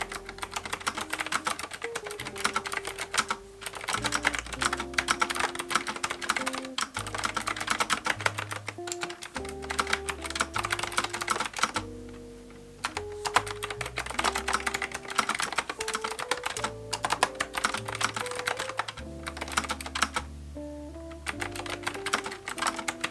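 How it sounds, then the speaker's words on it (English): Continuous rapid clacking of a mechanical keyboard, bursts of quick keystrokes with a brief pause midway, close and crisp, alone. "It's just a lovely clickety-clackety sound, like a typewriter."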